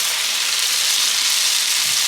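Chopped cheese meat sizzles on a hot griddle, a steady bright hiss of frying that carries on evenly without a break.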